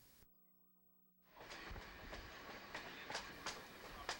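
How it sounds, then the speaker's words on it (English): A train runs along a rail line beside the south shore of a dam lake, its steady rolling rumble with recurring clicks from the wheels starting after about a second of quiet and continuing to the end. "Here the train is traveling along the south shore of the lake formed by Hauto Dam."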